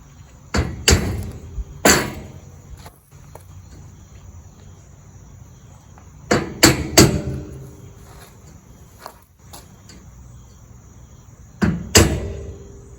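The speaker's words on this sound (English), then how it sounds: "I take this pick, punch, whatever you want to call it, and just put a hole in the steel." Sharp metallic taps from a pick punch being driven through steel fascia trim, arriving in three separate bursts of two or three quick hits each, fairly close, with a faint steady insect-like hiss running underneath.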